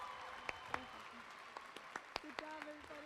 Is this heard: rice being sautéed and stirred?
no